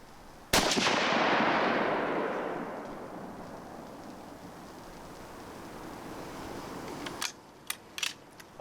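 A single sharp rifle shot from a new tracking rifle cracks close and loud, then rolls away in a long echoing decay across open country, followed by a few small clicks.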